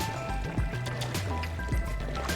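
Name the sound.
footsteps splashing through water in Subnautica: Below Zero video game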